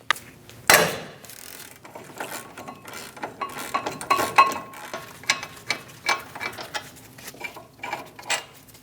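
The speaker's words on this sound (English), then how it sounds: "Using a 21mm socket, remove the 2 caliper bolts" A ratchet with a 21mm socket works the two brake caliper bolts loose on a 2001-2006 Chevrolet Silverado 2500 HD front brake, giving a sharp initial crack, then repeated close clicking strokes of the pawl in irregular bursts, no speech.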